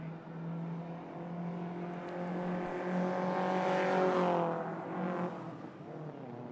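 Pre-1955 Frazer Nash racing cars charging through the field at a historic motor racing festival. Their droning engine notes swell and rise in pitch as the cars approach and pass at middle distance, then ease away.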